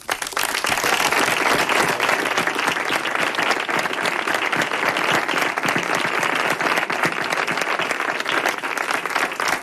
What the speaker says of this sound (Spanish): yo pido un fuerte aplauso para Carmen de la Jara.